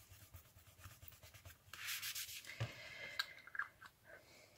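Paper collage corners are rubbed with a dry, scratchy scuffing that comes in short strokes, quiet and close, swelling into a denser rasp midway, with no voices.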